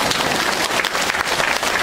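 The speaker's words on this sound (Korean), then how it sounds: "이럴 때 박수까지 칩니다." Church congregation clapping together during a sermon at a retreat, a brief burst of dense, steady applause that fills the room, loud and close with no voices over it.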